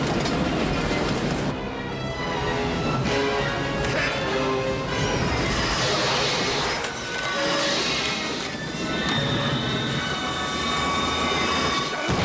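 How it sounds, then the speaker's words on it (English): A train is wrecked during a film stunt, with loud, continuous rumbling and grinding of railcars. Metallic screeches and crashing impacts come through the dense noise. "it's us just, wrecking a train and stuff"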